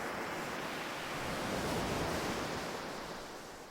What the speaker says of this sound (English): The sound of the waves is the only sound that matters now.